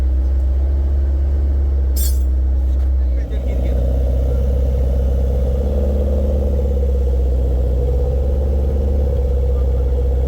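A camper van engine idles while warming up in winter, a steady low rumble running throughout with people talking over it.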